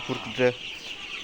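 Chickens on a poultry farm give a short burst of low clucks, close and brief, as a voice speaks over them.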